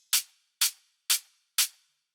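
Four crisp, bright hi-hat hits from a right-panned high-end sample in a dance music production, evenly spaced about half a second apart, each a sharp short burst with a quick decay and nothing else around them.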